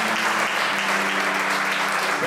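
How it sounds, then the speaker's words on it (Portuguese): A church congregation clapping loudly and continuously for the Lord during an evening service, a dense unbroken roar of hands with a faint low steady hum beneath it. "Eu queria que você aplaudisse bem forte ao Senhor nessa noite"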